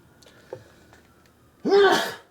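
A single loud, close sneeze bursts out near the end after a quiet stretch with faint background noise.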